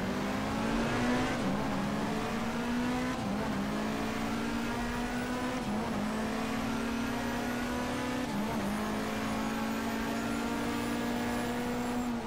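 A Nissan touring car engine in BTCC 1997 racing game holds a loud, steady high-pitched drone, with brief dips at gear shifts while tyres hiss beneath it.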